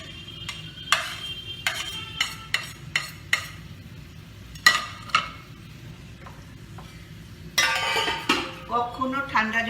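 Momo chutney is stirred and sautéed in a pan: a spoon scrapes and taps against the metal in a series of sharp, irregular strokes over a faint sizzle, with a busier run of scraping near the end.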